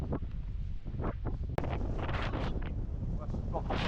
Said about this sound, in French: Le vent là, il est insoutenable.